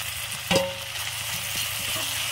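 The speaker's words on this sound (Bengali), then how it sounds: "তো একটু মশলাটা ভালো করে আমি একটু কষিয়ে নেবো" Spice paste of green chili, ginger and garlic frying in a pan over a wood fire, a short steady sizzle with a sharp clank near the start and a few soft stirring knocks.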